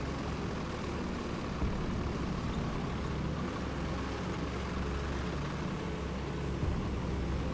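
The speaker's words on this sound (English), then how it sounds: "Listen to that glorious German diesel roar." Low, steady engine rumble from a Panzer II tank's diesel in the video game War Thunder, a quiet continuous drone with faint churning texture and no talking.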